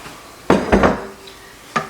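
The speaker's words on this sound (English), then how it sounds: "So I'm just going to dump everything into my skillet," Marinated pre-cooked shrimp are dumped into a skillet with a couple of close, sharp metallic clatters and scrapes, followed by one more knock after a pause.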